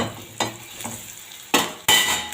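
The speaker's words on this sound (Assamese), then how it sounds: "আটাইখিনি মই এতিয়া অলপ টাইম ভাজি ল'ম।" Dried red chillies and turmeric powder frying in a pan on a gas stove, a close sizzle with scraping stirs and a few louder clattering bursts near the end.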